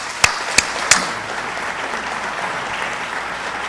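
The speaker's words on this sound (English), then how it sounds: "Give them a round of applause for what they do together" An audience at the Virginia Beach Fire Department awards ceremony applauds emergency services representatives. A few sharp claps open into a steady burst of clapping from a crowd in a hall that continues evenly to the end.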